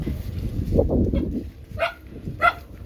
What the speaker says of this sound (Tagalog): Black dog.